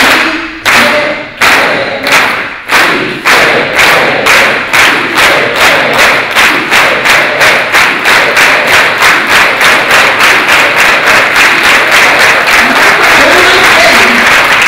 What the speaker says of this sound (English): it's an organized hand clap